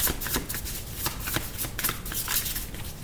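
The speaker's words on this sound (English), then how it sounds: "These cards feel so good when I shuffle them." A deck of tarot cards being shuffled by hand, a steady run of quick papery riffles and soft slaps repeating close up for several seconds.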